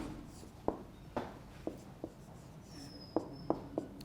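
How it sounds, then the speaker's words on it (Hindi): Chalk taps and scrapes on a classroom board in a series of sharp, separate strokes, with short gaps between them, over a low steady room hum. "मैं लिख देता हूँ बर्निंग"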